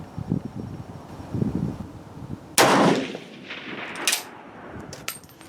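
Rifle shots from a range session using GP11 ammunition, with one loud sharp report near the middle followed by fainter echoing cracks, over wind noise and a few lighter distant pops beforehand.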